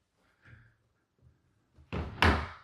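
Double closet doors in a Baton Rouge house are handled close by: soft faint rustling first, then two sharp wooden thuds as the doors swing shut near the end.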